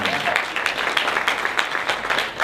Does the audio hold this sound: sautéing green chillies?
no